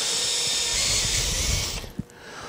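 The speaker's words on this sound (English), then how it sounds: "now I can pre-drill for the screws, and I'll just run this in" A power drill pre-drills screw holes for door butt hinges, a steady close whir that holds for almost two seconds before cutting off, followed by a single small knock.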